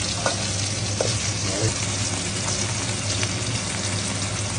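Homemade salted seer fish frying in a pan, giving a loud, steady close-up sizzle and crackle that runs throughout with no talking.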